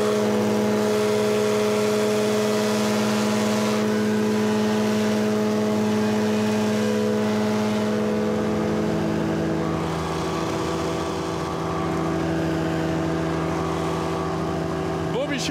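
A light aircraft engine drones steadily during an aerial photo flight, heard loud and close from the cabin. The tone shifts slightly partway through, and nobody speaks.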